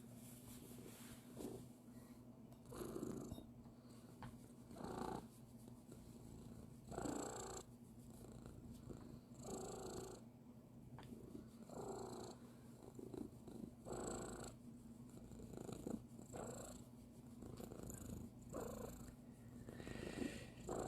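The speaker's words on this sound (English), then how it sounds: "Kitty cat." A domestic cat purrs close up in a soft, steady rhythm, each breath a low rumbling swell repeating for about twenty seconds with no talking.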